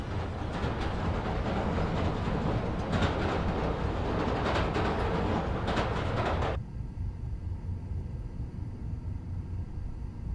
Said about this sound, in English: Need to wait for the train to come by.